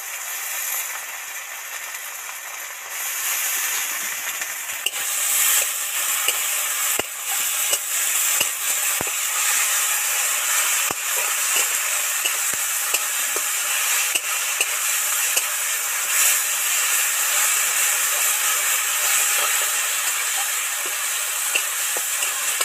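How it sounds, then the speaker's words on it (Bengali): Ginger garlic paste fries with onion and tomato in hot oil for a pangas fish curry, a loud, steady hiss of sizzling broken by occasional spoon scrapes and taps, continuing without pause and with no voices. "আদা রসুনের পেস্ট দিয়ে তো ভালো করে পেঁয়াজ টমেটোর সাথে ভেজে নিলাম"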